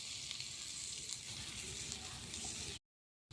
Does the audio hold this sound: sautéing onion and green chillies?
yes